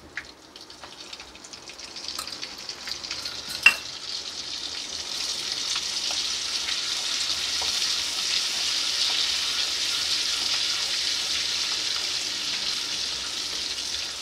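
Butter melts in a hot pan, starting quietly with a few clicks and a sharp knock, then a soft hiss that swells gradually into a steady, even sizzle for the rest of the clip.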